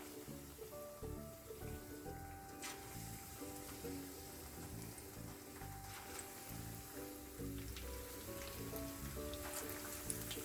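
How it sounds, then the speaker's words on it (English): Sesame-seed-coated tuna deep frying in a pan of hot oil, a steady, faint, rain-like sizzle of popping bubbles with a low background hum throughout. "in a frying pan I heated up some oil, and in here I'm going to deep fry the tuna fish"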